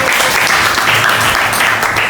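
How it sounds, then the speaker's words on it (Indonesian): Applause from a group of teachers at a university teaching-performance assessment session in Malang, a steady dense patter of clapping that holds at an even loudness throughout, with no voices over it. "Tepuk tangan buat kalian dulu dong."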